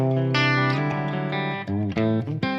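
Electric guitar with humbucker pickups through a clean, undistorted Mesa-style amp preset plays sustained notes and chords with a bright, ringing tone, alone and fairly loud, changing pitch several times.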